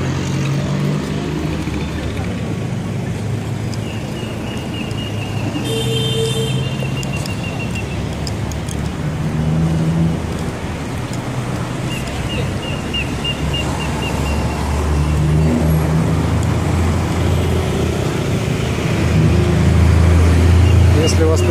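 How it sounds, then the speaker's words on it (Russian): Steady traffic noise of cars driving in and out beside a shopping mall entrance in Pattaya, a continuous engine rumble with passing vehicles, heard under someone talking. "будьте осторожны, здесь выезжают, заезжают машины"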